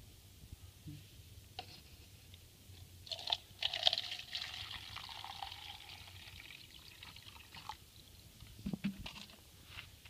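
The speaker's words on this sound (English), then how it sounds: "We're going to pour it in" Household bleach poured into a septic system, a soft liquid trickle and splash rising for several seconds then tapering, with a brief later dribble, fairly quiet against faint background hum.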